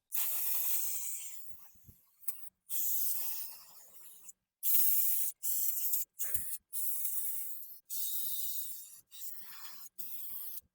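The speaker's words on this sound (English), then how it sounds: "I'm going to clean all this area, especially the brake shoes and all the grease that might be around it with the brake cleaner" Brake cleaner sprays onto the front drum brake shoes of a Ford F100 in a series of about ten sharp, close hissing bursts, each a second or so long, with short silent pauses between them.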